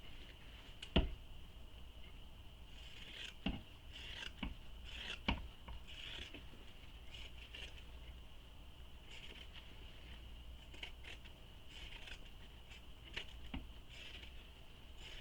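Fabric scissors trim a seam allowance on a small handmade messenger bag, giving a few sparse, faint snips and soft rubbing against quiet background.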